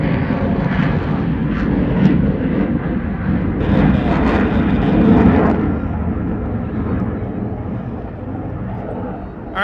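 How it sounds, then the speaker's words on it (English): An F-22 and a P-51 flying together in formation at the Great Texas Airshow in San Antonio, a loud continuous roar of jet and propeller engines rising and swelling slightly before easing off. "now the F-22 and the P-51 are going to gang up together and fly together in a historic formation"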